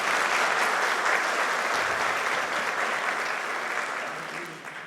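A church audience applauds the actors after a performance, a sustained wave of many hands clapping that stays strong for several seconds and then gradually fades, with faint voices underneath.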